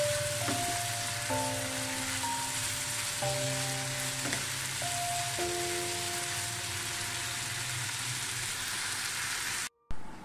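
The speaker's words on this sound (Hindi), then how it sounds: "इसको मैंने आठ से दस मिनट के लिए फ्राई कर ली है" Goat liver kaleji fries in a pan with a continuous close sizzle and crackle, while steady tonal beeps and hums from a nearby appliance run underneath; no one speaks.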